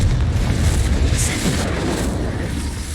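A Confringo blast spell fired in a Harry Potter video game, a steady loud booming rumble with a brief bright crackle, continuous low roar throughout with no talk.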